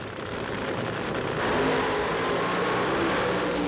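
Classic 1980 NHRA drag racing cars at the U.S. Nationals in Indianapolis roar in a loud, sustained, rising engine blast from launch, heard alone without talk.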